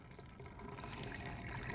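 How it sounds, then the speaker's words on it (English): Bleach and water are poured into an RV fresh water tank, a faint, continuous trickling and gurgling flow that grows slightly louder with no talking. "we're gonna go ahead and pour that right into our fresh tank"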